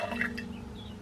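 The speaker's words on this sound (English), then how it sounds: "I'm gonna add 15 milliliters of water" Warm water poured into a jar of sourdough starter: a brief, close, soft liquid trickle and splash lasting about a second, with no talking.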